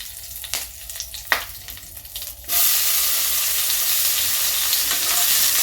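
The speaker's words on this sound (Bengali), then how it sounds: "টমেটোটাকে একটু নাড়াচাড়া করে" Chopped tomato hits hot oil with bay leaf and green chili in a pan, first with light stirring taps and scrapes, then breaking into a loud, steady sizzle that continues to the end.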